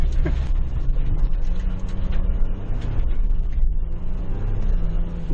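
Engine of a 2021 Ford Bronco pulling on throttle on a Moab off-road trail, a steady loud mechanical drone with gear and drivetrain clatter running continuously, close up and without talk.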